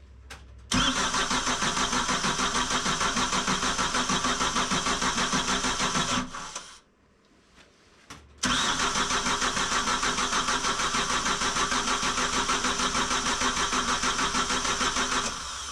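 The engine of a monoboom skid steer cranks over and over while trying to start after a rebuild, a loud, rhythmic, steady churning. It pauses briefly near the middle, then resumes cranking without catching.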